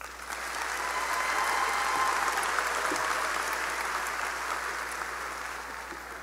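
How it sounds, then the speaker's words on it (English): Graduation crowd at a high school ceremony applauding supporters: a broad wash of clapping swells in quickly, holds steady for several seconds, then begins to taper toward the end, with no talking on top. "Please give those people a round of applause."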